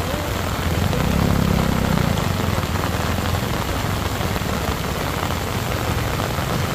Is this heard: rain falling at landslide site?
yes